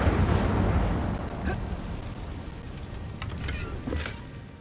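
A fire spell cast in Hogwarts Legacy gives a loud low roaring burst that swells at the start and slowly fades, with a few faint crackles and small pops after it and no talk in between.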